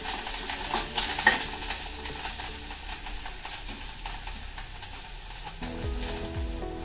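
Chopped coriander sautéed in raw tomato chutney in a pan, giving a continuous close sizzle with scattered spoon clinks and stirring scrapes, and no one talking.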